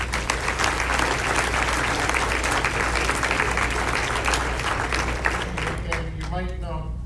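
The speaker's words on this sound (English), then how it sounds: "let's give him a big round of applause" Sustained audience applause during a mayor's State of the City address, a dense crowd clapping steadily for about six seconds before it fades. A voice begins speaking at the end.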